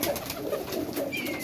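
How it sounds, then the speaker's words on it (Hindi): Pigeons of many kinds, including slate, blue, Teddy, Sialkoti and Rampuri breeds, coo in a loft, with soft overlapping calls repeating steadily through the moment under a busy background. "ये देखिए हर नस्ल का कबूतर है इधर, हर किस्म के कबूतर होंगे"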